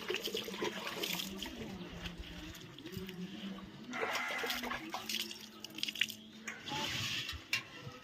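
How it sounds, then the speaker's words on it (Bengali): A bucket of water being poured out during an outdoor bath at a village home, heard as uneven splashing and gushing bursts that rise and fall, with softer dripping and trickling between pours. "এই যে দেখো এক বালতি জল ফেলে দিচ্ছি আমি"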